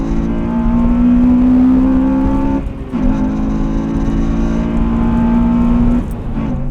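A Honda Civic Type R FN2 engine is revved hard in second gear and climbs into VTEC, a loud, close, steady high-pitched drone. The pitch holds through the pull, briefly dips, then rises again before it eases off.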